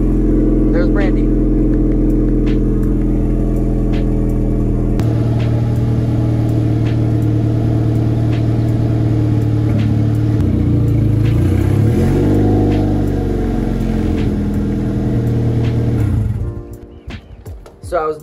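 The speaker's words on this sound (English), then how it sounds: "start the car up and let it warm up for a few seconds just to pull it onto some wood" A car engine starts and settles into a steady idle while warming up, a loud continuous rumble that runs for many seconds before cutting off with clunks near the end.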